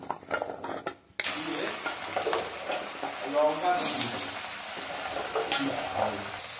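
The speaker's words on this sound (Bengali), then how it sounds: "বন্ধুরা, আলু কেটে নিয়েছি, এবার আলুগুলো ভেজে নেব।" Cut potatoes frying in a pan with plain oil, giving a crackling sizzle and some scraping from a utensil, heard under someone talking through most of the clip.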